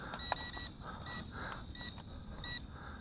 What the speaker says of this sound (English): And it's beeping.